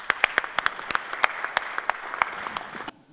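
At an escalator inauguration ceremony, a small audience gives sparse, distinct claps, about twenty separate sharp hits at an uneven pace, moderately close, ending abruptly.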